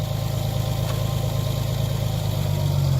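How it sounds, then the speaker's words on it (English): A farm tractor engine idles steadily at close range, a constant low rumbling drone with no voices over it. "Tractor's running."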